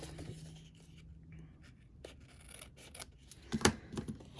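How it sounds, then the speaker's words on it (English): Scissors trimming excess designer paper on a Stampin' Up! card-making project, faint quiet snips with a couple of sharper cuts near the end, alone without talk. "I'm going to take my scissors and just go ahead and trim off that extra designer paper."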